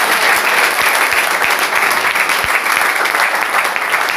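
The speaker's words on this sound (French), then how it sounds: "Applaudissons pour elle." Loud, sustained applause from a crowd fills the whole stretch, steady and close.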